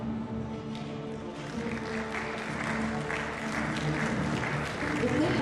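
Audience at an awards gala night giving polite, subdued applause, scattered claps that build slightly over several seconds, with voices talking underneath.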